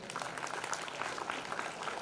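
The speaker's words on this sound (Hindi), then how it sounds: "और तालियां बजा दो ना तो।" Faint, distant applause from an audience at a Dhakad community talent award ceremony, a soft continuous patter of many hands clapping without a break.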